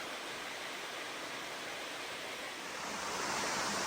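A tall waterfall at Fungi Falls in Polk County, North Carolina, pours in a steady, dense roar of rushing water, heard nearby with no other sounds.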